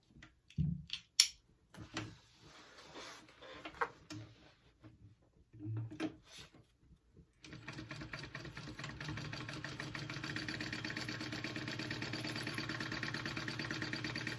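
Several quiet handling clicks and knocks give way to a sewing machine running steadily as it stitches a pocket onto a tote bag, the even motor whir close and continuous to the end.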